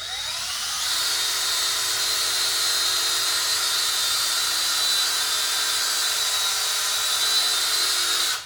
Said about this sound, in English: just going to put a screw, in here